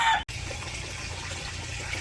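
Chickens cluck steadily on a village poultry farm, a dense close flock chatter running throughout after a brief sharp cutoff at the start, with no talk.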